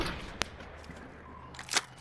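Call of Duty: Black Ops 4 gunfire in a match, two short, sharp shots separated by over a second, faint and distant over low background noise.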